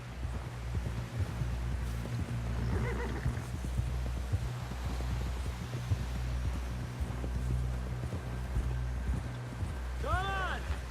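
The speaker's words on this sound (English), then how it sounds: "Someone help John down off this horse" In the Red Dead Redemption video game, a horse's hooves clip-clop steadily through the scene beneath constant background hum and talk, with a brief whinny near the end.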